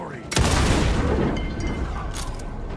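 Shotgun firing in the Alan Wake 2 video game, one sharp loud blast followed by a booming tail and lingering rumble.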